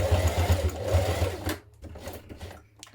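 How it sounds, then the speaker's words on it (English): A sewing machine stitches down the raw edges of a Haralson cross body bag, running steadily and fairly loud for about a second and a half, then stopping, followed by light fabric handling and small clicks. "we're going to stitch that down to secure those raw edges"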